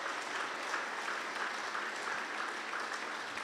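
A church congregation applauds for the Lord, a soft, even spatter of many hands clapping that carries on steadily at a distance, ending in a sudden loud knock.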